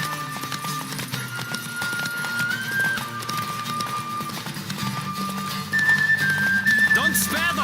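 Horse hooves clip-clop at a gallop during a race in The Witcher game, a steady rhythmic pounding under continuous background music and game sound.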